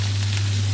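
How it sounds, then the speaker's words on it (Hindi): Beef steak seasoned with black pepper and salt sizzles in hot oil alongside garlic cloves, a dense continuous frying hiss over a steady low hum, loud and close with no talking. "साथ में लहसुन की जवे डाल के इसको फ्राई कर रहे हैं तेल में"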